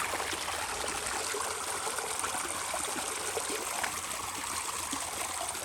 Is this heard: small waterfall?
yes